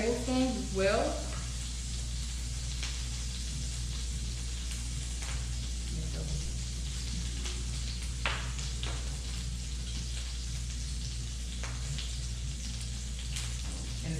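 Garlic and ginger sizzle in a hot pan, a steady close frying hiss dotted with small scattered pops and crackles.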